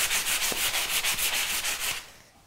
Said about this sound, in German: jetzt schleife ich das noch mal ein bisschen an